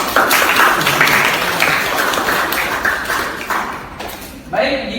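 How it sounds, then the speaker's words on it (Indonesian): Audience at a university lecture session giving a burst of dense clapping that fades gradually over several seconds, with voices briefly audible near the end. "Tepuk tangan untuk kalian semua."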